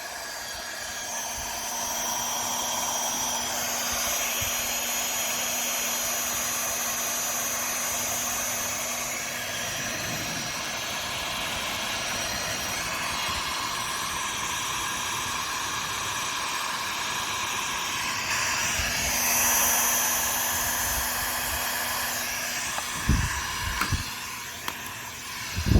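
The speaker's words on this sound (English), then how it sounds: "Got a heat gun here." A heat gun blows hot air to shrink heat-shrink tubing while replacing trailer lights with LEDs, giving a steady, moderately loud broadband whoosh that holds for the whole stretch, with a few handling bumps near the end.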